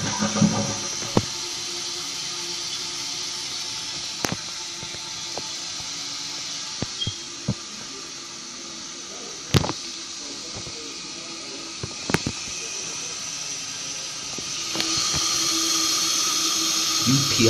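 A 2012 Kohler Wellworth toilet tank rated at 1.6 gallons per flush runs through a flush, giving a steady, fairly faint rush of water throughout with a few sharp clicks and knocks, and the flow grows slightly louder near the end.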